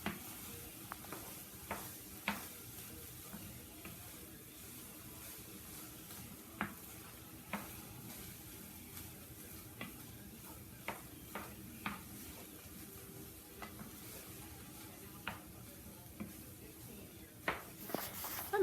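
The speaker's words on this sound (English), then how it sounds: "Like the smell of fresh veggies and garlic in a pan that you sauteing it" Fresh peppers, onions and garlic sauté in a pan with a faint steady sizzle, broken by scattered small clicks and taps of stirring, quiet and continuous for a long stretch.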